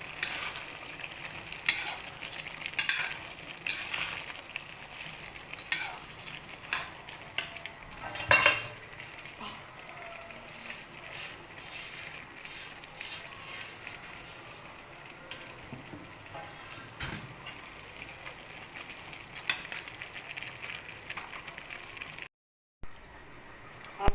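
Roasted edible gum stirred in a kadhai makes soft, continuous scraping and sizzling with occasional metallic clinks of the spoon against the pan, fairly quiet and with no talking.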